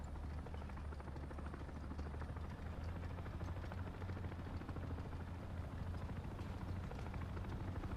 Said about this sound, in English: that is in fact a friendly helicopter there